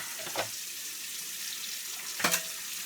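A tap runs while pots and pans are washed at a sink, giving a steady soft hiss of flowing water with two brief clatters of cookware, one near the start and one near the end.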